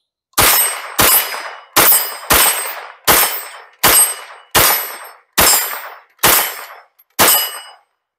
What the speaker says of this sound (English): So let's put some last rounds to the little Strybog 22 here.